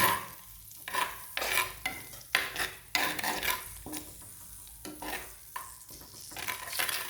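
A ground curry-leaf paste being stirred in a pan for squid curry: repeated scraping strokes of a spoon against the pan with a soft sizzle beneath, close and irregular, several distinct rasping passes without talk.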